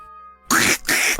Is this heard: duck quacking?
yes